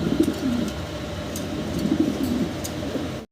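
Fancy pigeons in a loft coo in soft, repeated low phrases, a few bursts close by over a quiet background with faint rustling.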